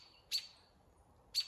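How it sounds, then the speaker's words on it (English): Two short, bright chirps from robins in the woods, about a second apart, faint and distant against a quiet background. "if you're out in the woods and you hear robins like that, that's the sound"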